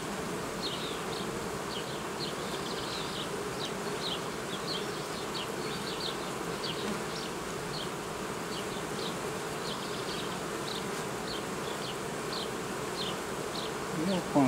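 A dense swarm of honey bees hums continuously at close range on a hive frame, a steady droning buzz with no pauses.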